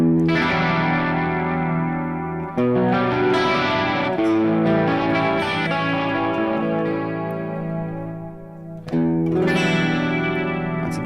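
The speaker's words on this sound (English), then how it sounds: "So when I play with the chorus, I do like it before there." An electric guitar played through a chorus effect pedal strums full, shimmering chords for about eleven seconds, loud and close, with a brief break near the end before a fresh strum.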